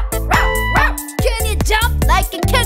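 A singing voice imitates a dog in a children's song, giving several rhythmic woof-like barks over bouncy music, loud and close.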